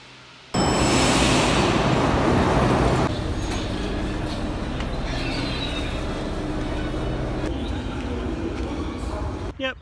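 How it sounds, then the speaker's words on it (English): A Tashkent metro train in Uzbekistan rumbles through an underground tunnel. It starts abruptly with a loud, roaring burst that settles into a steady, heavy rolling drone and continues close and constant throughout. "And now it's time to have a go on Tashkent's metro system."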